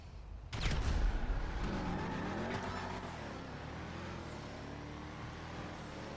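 Declasse Yosemite truck launching hard in a GTA Online drag race, a sudden loud engine roar that surges and climbs through rising revs, staying loud and steady close by with no talking.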